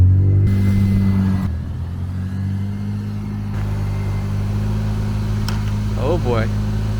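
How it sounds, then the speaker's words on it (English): A Toyota Corolla being driven out of a tight spot, its steady engine rumble running low and continuous throughout, with a brief higher rev near the end as a voice calls out over it. "Fetty's moving this car."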